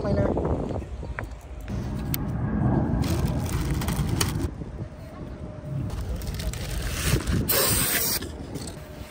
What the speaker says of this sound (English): I got the brake cleaner.